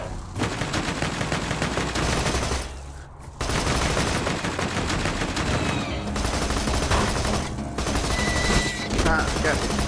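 Rapid machine gun fire in Borderlands 2 combat comes in loud, sustained bursts with a few brief gaps, layered with other game effects.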